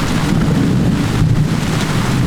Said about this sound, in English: Sometimes it's thunderstorms and hoping you're not the one to get struck.